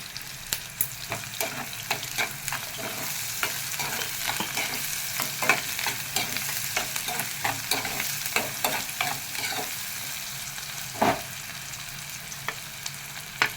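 Ivy gourd (dondakaya) and tomato fry in a pan with a steady crackling sizzle, broken by the clack of a spoon stirring at irregular intervals, close and with no talking.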